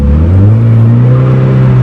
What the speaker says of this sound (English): I'm spinning my wheels.